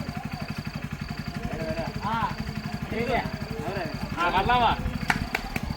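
A Hero Splendor motorcycle engine idles with a steady, rapid putter close by, and people talk over it throughout.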